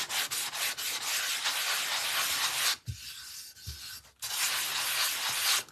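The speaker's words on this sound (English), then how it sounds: "I just want to give this a really nice light sanding." Steady rasping strokes of light sanding on a wooden birdhouse with 320-grit sandpaper, two long passes broken by a short quieter pause in the middle.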